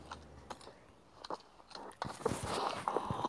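Gum being chewed close to the microphone, with wet smacking and crunchy bites that grow louder and denser toward the end, alone without talk.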